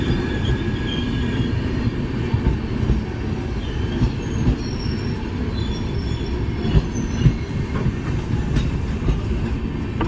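Bhagat Ki Kothi–Kacheguda Express rolling on rails at a crossing in India, a steady loud rumble of wheels and carriages with faint squeals and clicks, no talk.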